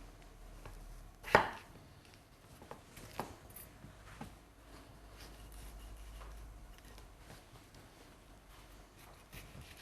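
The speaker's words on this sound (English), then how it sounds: "we'll also get our capsicum chopped up" A knife chops capsicum on a board with quiet, scattered taps, one sharp louder cut early on, and soft background hum throughout, with no talking.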